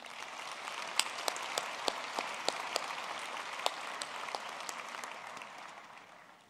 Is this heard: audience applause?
yes